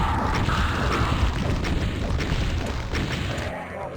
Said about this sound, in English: Let's get the rocket launcher on